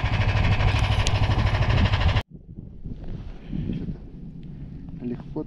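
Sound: strong wind

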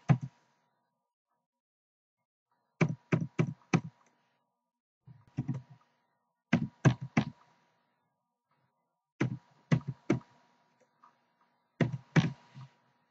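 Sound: typing a file name on a computer keyboard

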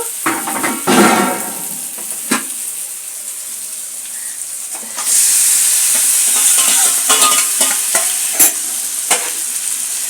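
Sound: stir-frying marinated chicken in spice paste

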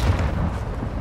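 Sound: missile strike explosions in Call of Duty Modern Warfare II video game

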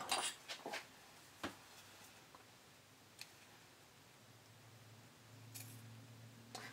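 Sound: scissors trimming fabric seam allowance

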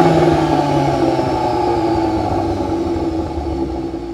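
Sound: VW Golf R engine with titanium Akrapovic exhaust

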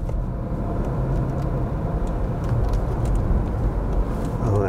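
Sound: road traffic, passing cars

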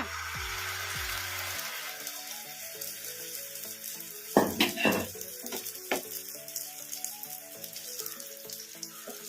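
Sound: egg and onion batter frying in hot oil on a pan

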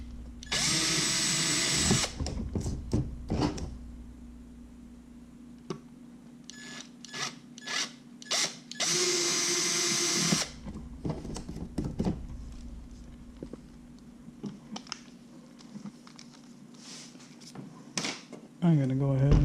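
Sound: pilot drill boring a hole

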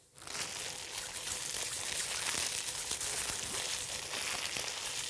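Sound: plastic sheet imitating wind and rain

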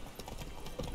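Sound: horse hooves in video game The Witcher 3

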